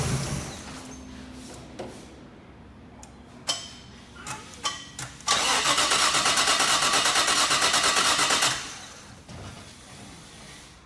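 A Nissan R33 Skyline cranks with a few hesitant clicks and stutters, then the starter whirs rhythmically for several seconds before the engine catches and settles into a lower running note, heard up close without talk.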